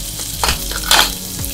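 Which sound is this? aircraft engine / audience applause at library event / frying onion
frying onion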